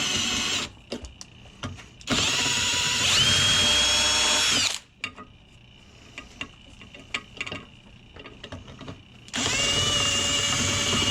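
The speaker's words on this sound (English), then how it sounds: "drill out that rivet and then bolt that piece on in" A power drill bores out a rivet on a Jeep Cherokee XJ window regulator bracket, whining loudly in two long bursts separated by quieter clicks and handling noises, with a third burst starting at the end.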